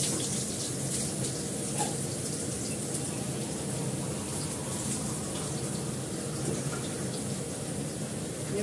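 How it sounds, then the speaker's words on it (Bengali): Water pours steadily into an aluminium kadai while a vegetarian curry cooks, a continuous close gushing splash that holds at an even level throughout with no voices. "যেহেতু আলু নেই অল্প করে জল দেবো"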